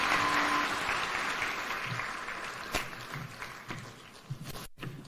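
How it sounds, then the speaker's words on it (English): Audience applause at the official opening of Kenya Innovation Week 2023 after the President's address, a steady clapping wash that gradually thins and fades over several seconds. "One more round of applause for His Excellency"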